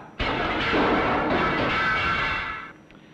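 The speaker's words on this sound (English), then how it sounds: "It uses about 100 kilowatts, and it can accelerate 4-pound missiles such as this up to nearly 100 miles an hour." A 100-kilowatt electric motor launcher fires a 4-pound missile: a sudden loud burst of rushing, whirring noise that holds for about two and a half seconds, then fades out, with no voices over it.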